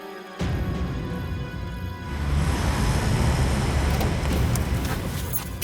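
A car on a road, heard as a steady broadband engine and road rumble that swells louder partway through as it manoeuvres, with no talking.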